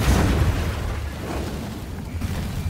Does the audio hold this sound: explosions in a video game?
yes